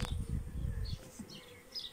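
Honeybees buzz around a hive outdoors, a close, steady drone that is loudest in the first second and then thins to fainter insect hum.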